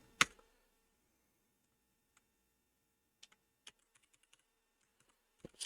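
Keystrokes on a computer keyboard while entering a password at an Ubuntu command prompt: a few scattered, quiet clicks in short bursts, with a louder tap at the start and another at the end, and no talk.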